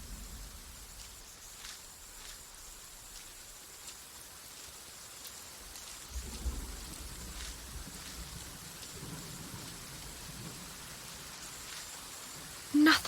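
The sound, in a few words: rain falling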